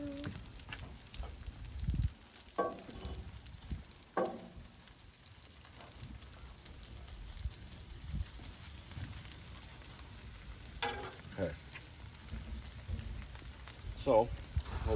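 A Reuben sandwich cooking on a Blackstone flat-top griddle gives a faint, steady sizzle, broken by occasional clinks and scrapes of a spatula, with a person talking now and then nearby.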